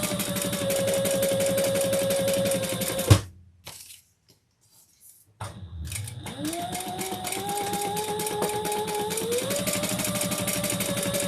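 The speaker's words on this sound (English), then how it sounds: "I am back stitching at each one." Home sewing machine stitching a fabric wallet with back stitches, a close, whirring mechanical run that stops briefly, then restarts and speeds up, with pitch rising as it goes.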